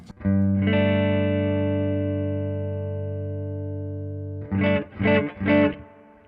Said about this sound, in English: we're going to start off with the neck pickup clean